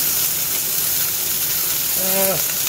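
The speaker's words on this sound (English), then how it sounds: "we're just going to sear this off and get it nicely cooked all throughout" Beef steak searing in a hot pan gives a steady, close sizzle that runs unbroken throughout, with a brief tonal squeak near the end.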